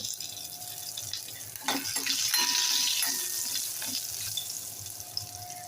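Oil sizzles and crackles steadily as curry leaves hit the hot oil for tempering, with a brief louder burst of spattering, close up and without voices.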